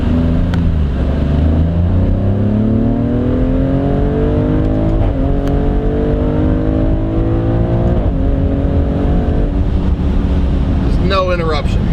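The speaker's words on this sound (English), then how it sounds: "The transmission is super fast" Maserati Grecale Trofeo SUV accelerating hard, its engine pitch climbing loud and close through several rapid gear shifts, each upshift a quick dip before the rise resumes, with wind noise throughout.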